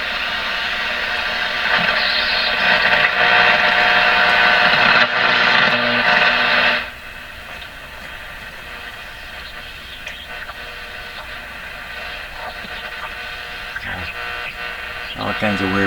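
Hallicrafters TW2000 communications receiver tuned across the 1.8 to 3.9 MHz band with no stations, producing steady hiss and buzzing static that is loud at first, then drops to a quieter crackling wash with a few faint whines.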